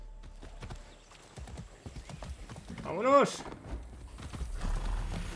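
Horse hooves clip-clop at a steady riding rhythm in the Far Cry 6 video game, with a brief whinny midway, heard alongside a man's speech.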